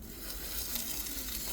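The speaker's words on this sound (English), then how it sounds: "Hear that sizzle?" Burger buns toast in a hot pan with a steady, soft sizzle and fine crackling, faint and continuous with no voices.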